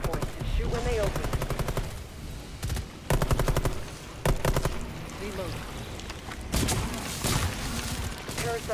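Gunfire in Rainbow Six Extraction, repeated rattling automatic bursts and sharp single shots spread across the stretch, loud and close, mixed with voices talking and other game sounds.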